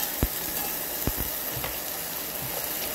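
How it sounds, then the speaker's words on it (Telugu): Onions, garlic and ginger paste frying in a pan for ginger rasam, a steady close sizzle with a few sharp clicks of a spoon against the pan. "ఉల్లిపాయలు, గార్లిక్ కూడా బాగా ఫ్రై అయిపోయింది"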